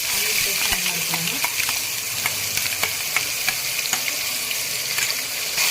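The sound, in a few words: onion paste frying with spices for chicken biryani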